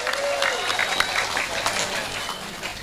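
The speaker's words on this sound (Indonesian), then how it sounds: "Tepuk tangan dulu dong buat pemuda bongas." Audience applause at an Islamic religious gathering (pengajian) with selawatan singing, a steady wash of clapping that carries through the whole stretch with crowd noise and a thin whistling tone above it.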